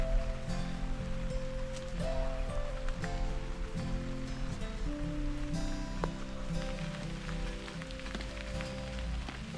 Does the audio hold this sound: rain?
yes